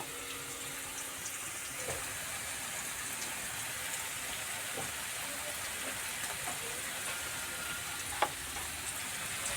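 Cabbage fries with ghee in a pan, giving a faint, steady sizzle with soft crackles and an occasional small pop, close and quiet with no one talking.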